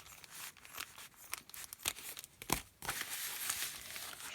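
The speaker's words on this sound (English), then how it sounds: "I cut this top piece off where the handle is." Scissors cut the handle section off a plastic grocery bag, with loud crinkling and crackling of the thin plastic in uneven bursts, close up and with no talking.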